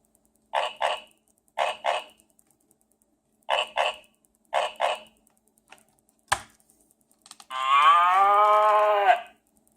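A cow moos in a long, loud, drawn-out call near the end, following several short paired sound bursts and a sharp click, from a children's animal mask sound book.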